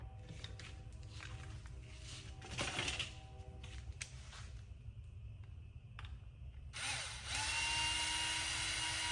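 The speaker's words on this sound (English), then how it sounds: "the big drill bit tends to just rip the hole and make it pretty jagged" A power drill bores holes for guitar tuners in a neck, with short whirring bursts and scraping contact, then a louder sustained high whine of the bit spinning near the end; quiet, close workshop sound with no talk.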